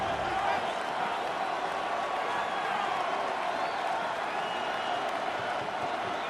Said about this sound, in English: Crowd on their feet for 3rd and 4